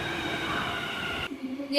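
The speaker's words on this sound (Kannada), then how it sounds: "LNT metro rail." Inside a Hyderabad L&T metro train, a steady hum and rumble of the moving carriage runs for over a second before cutting off abruptly, leaving quieter background sound.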